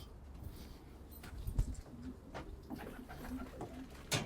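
Soft flock pigeon coos murmur close by in a quiet space, with a few scattered rustles and a brief sharp tap near the end.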